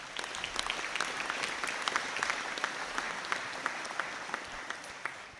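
An audience at a university conferring ceremony claps in a long, even round of applause, many hands blending into a dense patter with a few sharper, closer claps standing out.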